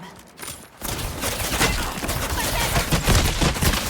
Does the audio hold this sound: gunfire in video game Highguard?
yes